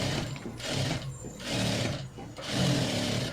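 Sewing machine running in three bursts, stitching a straight chudidar pant in a tailoring session, each run a steady close mechanical whir separated by brief pauses.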